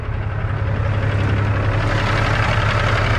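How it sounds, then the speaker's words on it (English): A truck's diesel engine idles steadily at close range, a constant low rumble with a faint knocking texture and no talk. "shut this engine off for a second here just so that I can talk to you"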